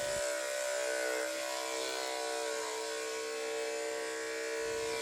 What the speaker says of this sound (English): Just use the weight of the clipper and glide the clipper through the coat